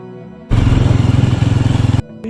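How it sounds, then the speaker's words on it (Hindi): A Yezdi Roadster motorcycle engine with an idle fault runs with a loud, close, lumpy chugging rhythm for about a second and a half, then abruptly cuts out as it stalls, leaving near silence. "मेरा बाइक फिर से बंद हो रहा है यार, फिर से वैसे का वैसा ही इशू आ रहा है इसमें।"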